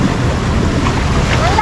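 Boat pitching on rough sea waves off the Amalfi Coast, with a steady loud rush of water and wind noise across the whole stretch, under shouting voices.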